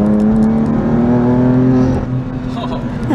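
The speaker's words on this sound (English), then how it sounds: "Exhaust sounds great." BMW M2 Competition (2019) with a Dinan exhaust upgrade accelerating hard, a loud rising engine and exhaust drone that climbs steadily for two seconds, then eases off into a lower, quieter note, heard close from inside the car.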